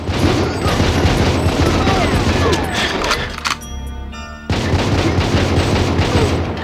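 Gunfire in GoldenEye 007, loud dense bursts of rapid shots with crashing impacts, a brief lull in the middle before the firing resumes just as heavily.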